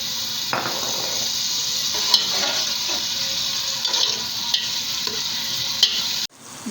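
Onion masala with peas fries in a pan with a continuous bright sizzle, and a spoon stirs through it with soft scraping pulses until the sound cuts off abruptly.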